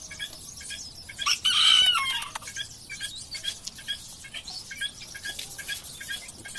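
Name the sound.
rooster crowing and clucking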